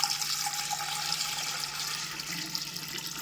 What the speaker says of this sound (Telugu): చింతపండు నానబెట్టుకొని దాని రసం తీసుకున్నాను ఇప్పుడు ఈ కుండలో పోస్తున్నాను